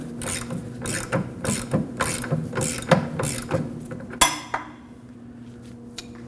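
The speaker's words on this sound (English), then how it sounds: "Using a 19mm socket, go ahead and loosen this one." A ratchet fitted with a 19mm socket loosens a bolt on a Kia Optima during rear brake caliper work: a series of sharp, rhythmic metallic clicks, then a louder clank and quieter tail.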